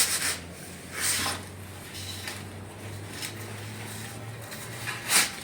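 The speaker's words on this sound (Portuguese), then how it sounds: "Então ele está sarrafeando com base na mecha lá" Broad rasping scrapes from a straightedge screeding fresh plaster render on a wall at a building site, sweeping in several strokes over a low steady hum.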